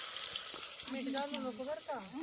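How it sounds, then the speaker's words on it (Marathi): Onion dropped into hot oil in a pot over a wood-fired stove, a short hiss and crackle of tempering partly under a person talking. "तेल तापलेलं आहे कांदा घालूया फोडणीसाठी"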